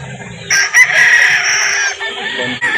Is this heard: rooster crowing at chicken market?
yes